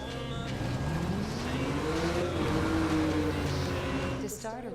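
A Porsche revving and accelerating in Need for Speed Rivals on PC, a steady engine drone rising and falling in pitch over a few seconds with a faint voice in the background.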